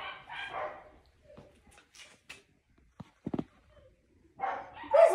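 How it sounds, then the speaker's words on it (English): A dog barks outside in short bursts, some near and clear, a couple of yips in between, with brief quiet gaps. "There's a dog barking for out there, huh?"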